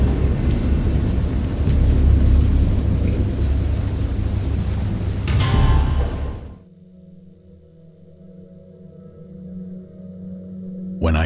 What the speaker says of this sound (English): I heard pearls of thunder and other tones which nature utters only in her wildest moods.